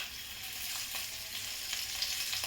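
Potatoes frying in well-heated oil in a pan for khichdi give a faint, steady hiss and sizzle, with a few soft stirring scrapes and no talk.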